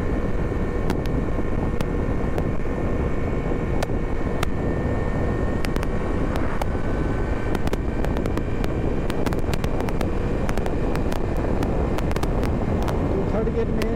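A 2022 Hero Passion Xtec motorcycle cruising at speed in third gear, its engine a steady broadband drone under heavy wind buffeting, with someone talking over it throughout.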